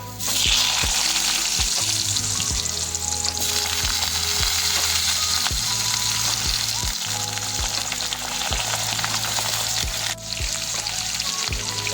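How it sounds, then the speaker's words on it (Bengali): Cut potatoes are added to oil with fried whole spices and sizzle loudly and continuously up close. Regular scraping knocks from a spatula stirring against the pan run through it. "মশলাটা আমার ভাজা হয়ে গেছে এবার দিয়ে দেবো"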